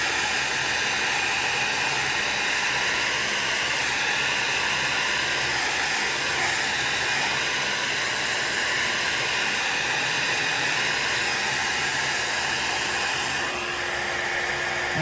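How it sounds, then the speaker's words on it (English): A hair dryer blows steadily at close range over alcohol ink art on holographic sticker film, a constant loud whooshing hiss with no pauses. "if you're doing like I am and keeping your dryer running"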